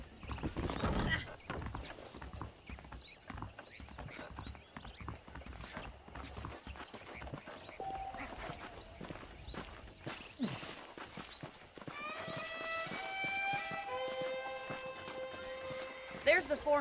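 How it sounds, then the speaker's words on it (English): Horses clip-clopping and whinnying in the Western game Red Dead Redemption, hooves thudding steadily under a man's speech and ambient game sounds, with a brief neigh and tonal music rising toward the end. "The horses are saddled up over here."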